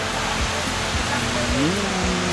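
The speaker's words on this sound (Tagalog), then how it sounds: "ibang spot na naman ng falls" A waterfall at Lake Sebu in South Cotabato roars as steady, dense broadband rushing water close by, with a voice briefly audible over the continuous noise.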